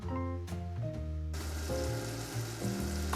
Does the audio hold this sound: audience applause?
no